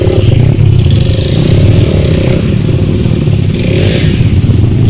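Motorcycle engine revving hard as the rider tries to pop a wheelie, a loud, close, continuous rumble with rising and falling throttle surges.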